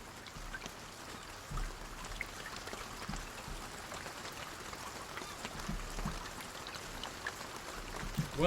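Rain falls steadily in the survival video game Escape the Pacific, a continuous soft patter and hiss with occasional heavier thumps, faint and constant throughout.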